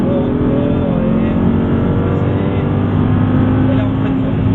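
An Audi R8 V10 accelerating on a track at Issoire, its steady loud engine drone holding throughout under an instructor's spoken coaching.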